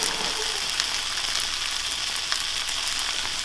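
Onions sizzling and frying in a pan for a vegan burger, a steady bright crackling hiss that runs continuously and fairly close, with small pops scattered through it and no talking.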